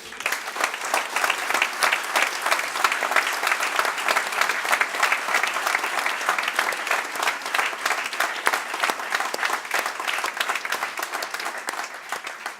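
An audience breaks into sustained applause for Olivier Fabre at a live speaking event, dense and even clapping from a large crowd that holds steady throughout and tapers slightly at the end.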